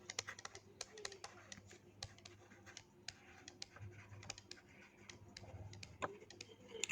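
Quiet, irregular tapping of a computer keyboard, with soft key clicks in uneven bursts and a low hum underneath, and no talking.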